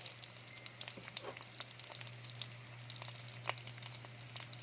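Onion sautéing with garlic in a pan for ginisang upo with ground meat, a faint steady sizzle with small crackling pops throughout, no voices, quiet and close.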